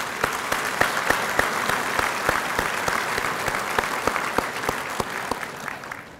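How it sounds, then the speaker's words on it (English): Banquet audience at the Select Sires 50th anniversary applauding media guests, a steady room-filling round of clapping with scattered sharper claps standing out, holding even for several seconds before easing slightly. "Let's give our media friends a round of applause."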